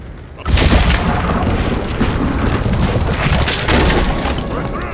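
A cannon fires in Red Dead Redemption 2, a sudden deep boom followed by sustained rumbling battle noise and a second swell of blasts, loud and dense throughout.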